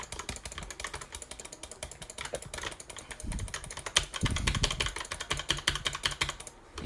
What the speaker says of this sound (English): Let me do some butterfly clicking.